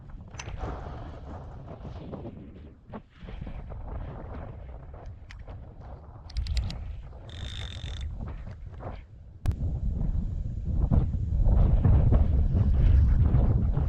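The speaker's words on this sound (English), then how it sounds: "we've got a lot of wind coming from upstream or downstream blowing her here" Strong gusty wind buffeting the microphone beside a river during a fishing trip, a steady low rumble that swells louder in the final seconds, with no talk.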